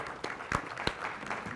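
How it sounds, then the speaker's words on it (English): Scattered, fairly faint handclaps from a small audience at a district delegate meeting greet a newly introduced food and beverage manager, with a few sharper claps standing out over a low murmur. "Let's give him a round of applause."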